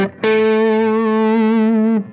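An electric guitar runs through a Strymon Compadre boost pedal set to clip at a low level, giving one sustained, buzzing, clipped note that holds for nearly two seconds before cutting off, loud and close.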